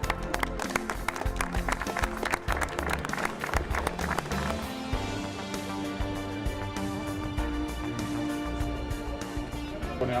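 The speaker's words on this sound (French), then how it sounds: "Bravo, on peut applaudir." Outdoor crowd at a street inauguration ceremony claps in sharp, fast bursts that thin out after a few seconds, with a lingering murmur and background noise underneath.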